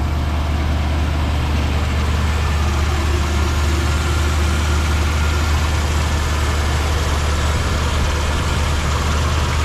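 A 1957 Chevrolet Bel-Air convertible's V8 engine, fitted with a batwing air intake, idles with a steady, deep, continuous rumble throughout. No one speaks over it.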